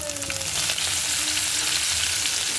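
Garlic and cumin frying in oil for a cucumber chutney, a loud, continuous close sizzle with slight crackle and gentle stirring, no voices.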